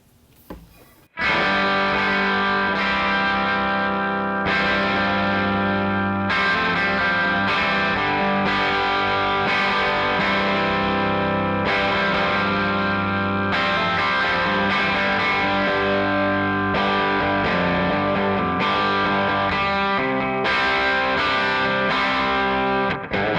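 A vintage Gibson ES-335 electric guitar on its bridge pickup, played continuously with a driven, slightly distorted tone, sustained chords and riffs ringing loud and close with no talking over them.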